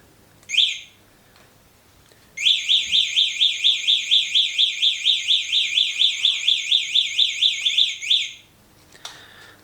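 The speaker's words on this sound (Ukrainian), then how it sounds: "Також працює сигнал і також працює наша сигналізація." A short electronic chirp, then a Kugoo M2 electric scooter's loud warbling alarm sounds repeatedly for about six seconds before cutting off, followed by a brief beep.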